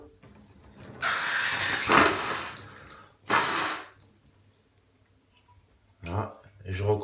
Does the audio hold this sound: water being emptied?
yes